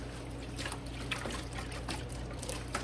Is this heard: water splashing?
yes